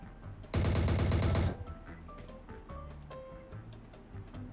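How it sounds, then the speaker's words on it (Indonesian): A loud, rapid burst of automatic gunfire lasting about a second from a bot in PUBG Mobile, followed by quieter game sounds and faint distant shots. "Nah, botnya nembakin dia tuh."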